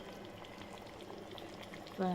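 Korra fish curry (pulusu) simmers in a pot, with a soft steady bubbling close by before a louder tone cuts in at the very end.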